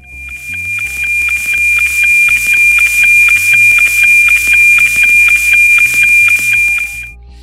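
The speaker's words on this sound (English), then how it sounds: "This is the signal received from NOAA 19 satellite using the newly made antenna." NOAA 19 weather satellite signal picked up by a homemade Yagi antenna and RTL-SDR receiver: a loud, steady tone pulsing with a rapid regular ticking beat over shifting low notes, alone.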